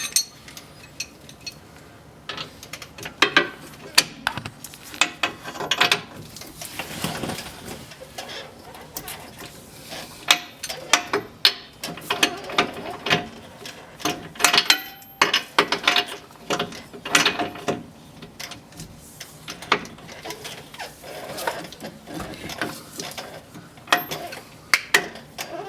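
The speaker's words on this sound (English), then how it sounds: "There's a big nut on the back. You have to hold it on the front with a wrench." A wrench ratchets and clicks against a big nut on the back of a PT Cruiser, quick irregular bursts of metallic clicking and clanks, close and fairly loud with pauses between turns.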